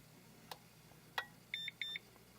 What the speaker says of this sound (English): It'll beep once for under 1 ohm of resistance for ESR, and then like twice up to 2 ohms